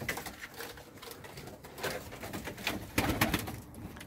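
Pigeons coo steadily on a rooftop terrace loft, several birds layered into a continuous low murmur with scattered wing flutters and soft rustles, moderately close and without any talk.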